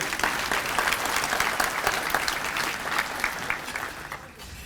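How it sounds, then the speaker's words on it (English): Sustained audience applause at an annual meeting and membership banquet, dense continuous clapping from a crowd that tapers slightly near the end. "John, stand up so we can give you a round of applause."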